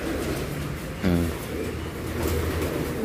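Pigeons in a rain-soaked loft coo and scuffle, with one brief, louder burst of cooing about a third of the way in over a low, steady background.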